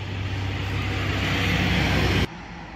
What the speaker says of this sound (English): Sorry, that was truck noise.